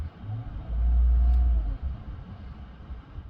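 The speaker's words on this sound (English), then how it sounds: "we'll start revving it up" Chevrolet Silverado 5.3L V8 engine revving, a single low rumbling rise held for about a second before dropping back to idle, close and steady with no talk.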